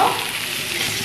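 Spice paste fries in a pan, giving a brief, loud and dense sizzling hiss close up, with no voices.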